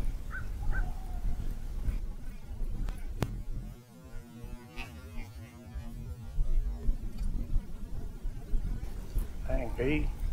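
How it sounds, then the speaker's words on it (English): A big bee or similar flying insect buzzes around an outdoor fishing spot, its drone wavering as it moves in and out over a low background hum, with a brief voice near the end. "I guess it was a bee. Some kind of big old flying bug."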